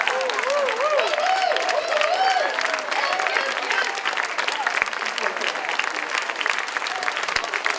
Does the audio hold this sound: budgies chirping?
no